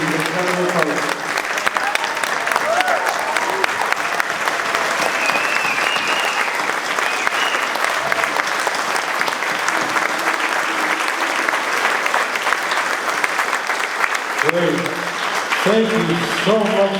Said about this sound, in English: A huge round of applause for these incredible artists.